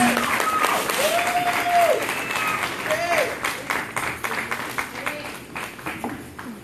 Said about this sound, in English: Clap it up for Kalamu, please.